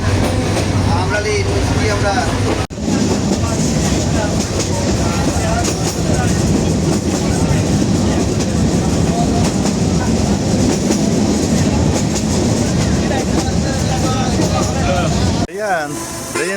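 A passenger train carriage rolling through Bangladesh rattles and clatters in a loud, continuous rhythm close around the listener, with people talking over the noise throughout.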